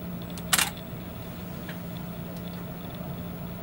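A single sharp click of a camera shutter firing for a macro shot with a 65 mm macro lens and light diffuser, close and crisp against a quiet background hum.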